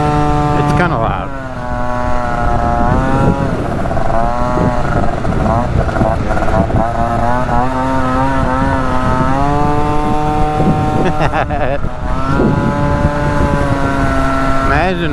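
Loud scooter engine and exhaust while riding, sounding almost like a dirt bike, with a steady droning tone that rises and falls as the throttle changes, continuous and close throughout.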